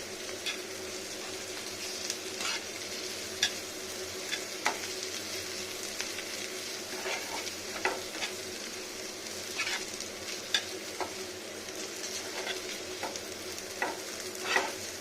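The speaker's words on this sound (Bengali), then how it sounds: "অনেক ভাজতে হবে, জড়ো হবে যখন, দোলা পাকবে, তখন জানবেন ভাজাটা ঠিক হচ্ছে" Onions sizzle steadily in a frying pan while being stirred for a rui fish curry, with sharp scrapes and ticks of the spoon breaking through the constant crackle at close range.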